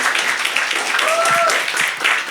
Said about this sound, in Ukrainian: Да, аплодуйте, звісно, аплодуйте